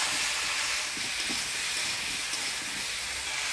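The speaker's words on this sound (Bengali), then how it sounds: "হলুদ লবণ দিয়ে ভালো করে নাড়াচাড়া করে নিলাম" Beans and eggplant are stirred in a pan with turmeric and salt: a steady sizzling hiss runs throughout, with soft scraping stirs underneath and no talking.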